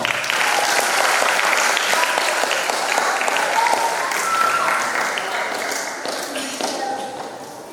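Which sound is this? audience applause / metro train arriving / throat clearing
audience applause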